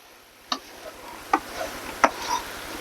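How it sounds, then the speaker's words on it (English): A spoon scrapes and knocks through a meat-and-rice mixture in a pan in soft, separate strokes roughly every second. The stirring sounds close and quiet and comes alone, with no talk over it. "Just kind of stir everything around the best you can."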